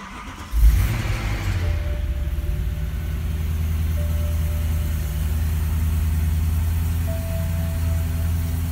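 A 2009 BMW M3 Coupe with a manual gearbox cranks and fires up close by, settling into a steady, throaty idle that holds for several seconds.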